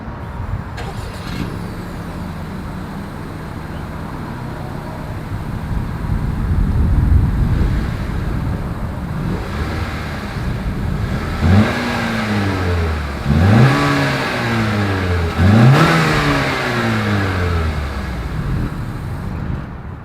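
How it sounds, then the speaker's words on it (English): A 2021 Honda Accord engine revs hard several times, the exhaust note rising and falling in loud sweeping bursts over wind noise. "As always, here is that exhaust clip."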